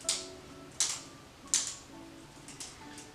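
Three sharp metallic clicks at an even pace, then two softer ones, from a butterfly knife doing overhand scissor flips close by in a quiet room.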